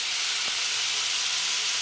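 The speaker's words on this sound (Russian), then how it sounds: "слегка обжарился имбирь" Ginger and pork fry in a pan with a steady, dense sizzle that fills the short stretch, close and loud, with no voices.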